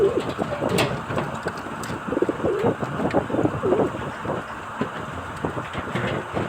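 Breeder pigeons coo softly in a loft, low murmuring calls repeating over steady background noise with a faint engine hum, fairly close but not loud.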